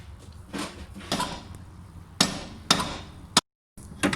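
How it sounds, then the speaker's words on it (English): A mallet tapping a stuck stud loose on a car: about six sharp knocks at irregular intervals, close and fairly loud, with a brief dropout between the last blows. "I can just give it a slight tap with a mallet."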